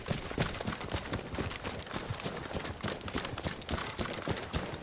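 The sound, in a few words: footsteps without Slink in the video game Battlefield 1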